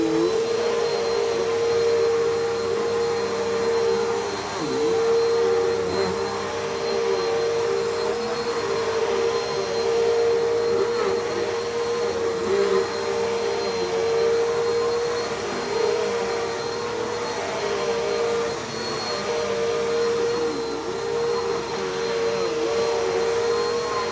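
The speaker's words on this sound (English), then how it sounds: "I can tell this is the 8 amp motor because it's a lot whinier than the one in the other Cleanview" Bissell CleanView upright vacuum with an 8 amp motor running steadily and loud, a whiny motor tone holding level throughout with slight dips, no talking.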